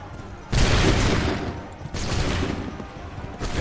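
Musket volley gunfire in the video game Assassin's Creed 3, with loud broadband blasts at about half a second, near two seconds and again at the end, each trailing into crackling reverberant rumble.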